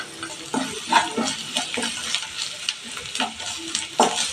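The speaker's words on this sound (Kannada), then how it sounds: "ಚೆನ್ನಾಗಿ ಮಿಕ್ಸ್ ಮಾಡಬೇಕಿದ್ದು, ಫ್ರೈ ಆಗಬೇಕು ಸ್ವಲ್ಪ ಮಸಾಲ" Turmeric, coriander, chilli powder and garam masala fried in a pan for mushroom gravy, stirred with repeated scraping strokes over a steady close sizzle.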